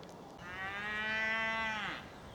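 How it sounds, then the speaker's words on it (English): A cow lets out one long, drawn-out moo, close and loud, in a field beside a country walking path in the Sundon Hills, with quiet outdoor background around it. "now got to encounter another field of cows"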